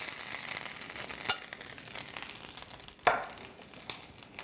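Chicken pieces frying in a hot pan give a steady close hiss and sizzle, broken by two sharper crackling bursts, with no voices.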